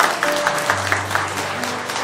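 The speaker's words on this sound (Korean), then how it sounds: "아버님께 다시 한번 큰 박수 부탁드립니다" Guests clap for the bride's father at a small wedding ceremony, a steady patter of applause held under a low musical tone, fairly close.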